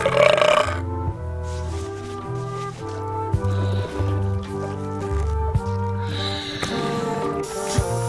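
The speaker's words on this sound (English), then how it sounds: "how about a burping contest?" Exaggerated cartoonish burps traded back and forth in a burping contest in the game Return to Monkey Island, a string of long, loud, low belches with short gaps between them and a brief higher sound at the start.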